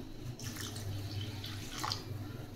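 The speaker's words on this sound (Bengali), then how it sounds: "জল ঢেলে নিই।" Water poured into a pot of rice for cooking in a home kitchen gives a steady, close splashing flow with a low continuous rush underneath, alone without speech.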